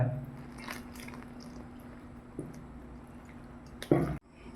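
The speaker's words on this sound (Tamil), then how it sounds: "தண்ணி எடுத்துகிட்டு மாவை கரைச்சிக்கலாம்" Quiet wet squishing and stirring of a thick gram flour batter being mixed with water for laddu, with a few soft drips and a louder splash near the end.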